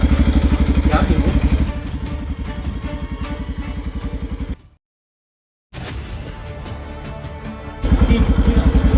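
A motorcycle engine runs steadily nearby with a rapid, even chugging pulse, cuts out abruptly into about a second of silence, then resumes and grows louder again toward the end.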